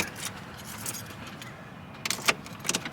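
Keys for a 2017 Ford Fiesta jangle close by in short metallic bursts, faint at first and clustering louder near the end, over a quiet car interior.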